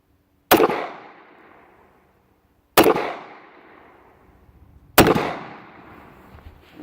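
A Norinco TT33 pistol chambered for 9mm fires three loud, sharp shots outdoors, each spaced about two seconds apart, with a ringing decay trailing off after every report.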